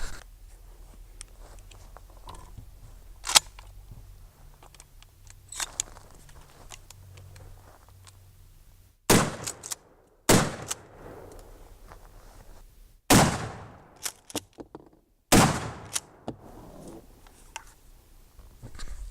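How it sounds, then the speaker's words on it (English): Four loud shotgun blasts from a Mossberg 500 pump-action firing Kent turkey load shells, spaced about two seconds apart after a stretch of quiet handling noise, each with a sharp crack and short outdoor decay. "those last 2 shots were the Kent turkey load"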